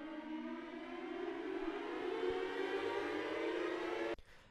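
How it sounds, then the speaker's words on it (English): Project Alpha riser effect, a steadily climbing, swelling whoosh of rising tones like a launching space shuttle, building for about four seconds before stopping abruptly. "there's Project Alpha's riser, which sounds kind of like a space shuttle or something taking off"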